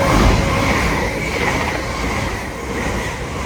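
An LNER Azuma passenger train running from Newcastle to London King's Cross passes through Alexandra Palace on the East Coast Main Line, a steady loud rolling rumble with faint rail clatter.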